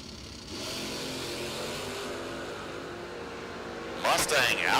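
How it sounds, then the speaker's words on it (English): Mustang drag car engine roaring at an IHRA World Finals drag race in Holly Springs, Mississippi, a sustained loud engine rumble with a sharper revving burst near the end, heard from a distance. "Mustang out front, Matt Diamond, 591 at 115."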